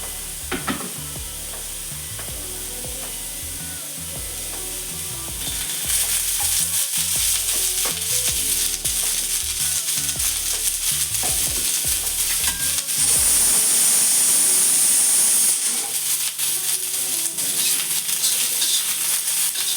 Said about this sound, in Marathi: आता आपण कांदा भाजून घेऊया